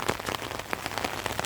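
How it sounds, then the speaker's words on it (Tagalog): Rain pattering steadily on surfaces during an autumn morning walk outdoors, a dense field of close, crisp drop impacts with no voices. "Tubig sa ulan."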